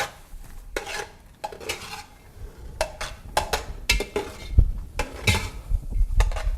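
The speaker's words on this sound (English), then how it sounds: "you can hear that onion starting to cook in there and kind of stir it a little bit" Onion cooks in a pan while a utensil scrapes and clatters through it in irregular stirring strokes, with a soft sizzle underneath.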